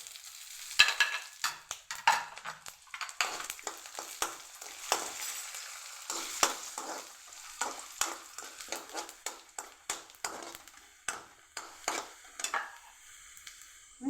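Urad dal fries in a pan with a soft, light sizzle, overlaid by frequent scraping and tapping of a stirring spoon in uneven bursts.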